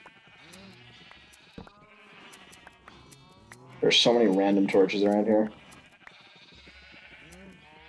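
Sheep in a video game let out a loud, close burst of bleats lasting a couple of seconds during shearing, while a person talks quietly before and after.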